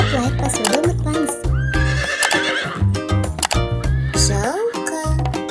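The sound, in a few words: horse neighing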